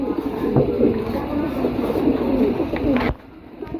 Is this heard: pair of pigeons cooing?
yes